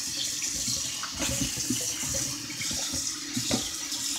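Macaroni is rinsed of starch under running tap water, a steady close splashing stream into a sink with small fluctuations in flow.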